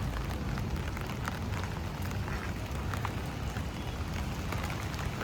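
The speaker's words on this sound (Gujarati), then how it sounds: "સરસ મજાનું વાતાવરણ અને ધીમો ધીમો વરસાદ." Gentle, slow monsoon rain falling in Surat, a faint steady hiss of light drizzle with no distinct drops standing out, even and continuous.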